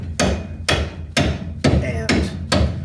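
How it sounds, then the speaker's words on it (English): A hammer taps a caliper key into place between the caliper and bracket on the front brake of a small-body AMC Gremlin or Hornet; six loud, sharp metallic strikes land at a steady, even pace, close up. "And then you'll take a hammer"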